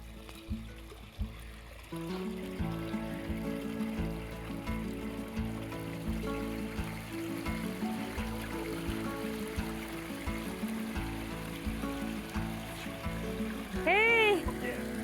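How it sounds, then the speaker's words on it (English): Water runs steadily through a relined, partly rebuilt garden water feature in a continuous trickling rush, with a whistle-like chirp near the end. "now we're running the water"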